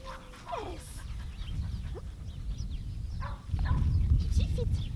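A dog whimpers and yips softly during a dog dancing training session, with high thin whines and breathy panting over rustling background noise, close and fairly quiet, with a person's voice faintly present.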